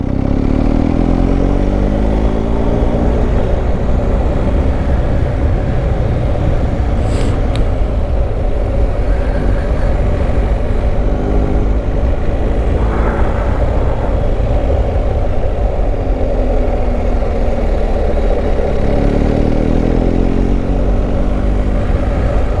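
A BMW R1250 GS Adventure motorcycle rides along with a steady engine drone and heavy wind rumble, loud and continuous throughout with no speech.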